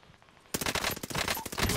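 Automatic gunfire in Call of Duty Warzone erupts after a quiet half-second, with rapid overlapping bursts of shots that sound close and loud and keep going to the end.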